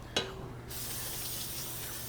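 A sharp click, then a steady, continuous hiss of cleaner sprayed from a nozzle onto a 2009 Ford Ranger transmission pan, close and sustained.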